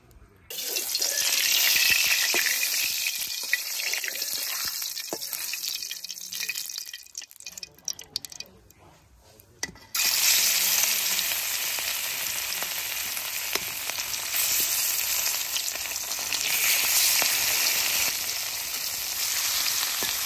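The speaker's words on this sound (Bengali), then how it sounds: "প্রথমে তেলে মাছটা ভেজে নিমু, কড়াই দিয়ে দিই তেল।" Spice-coated river fish, rubbed with chili powder and salt, sizzles loudly in hot oil in a kadai, the crackling frying steady, dipping briefly midway before resuming at full strength.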